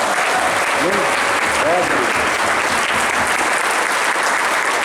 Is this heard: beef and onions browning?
no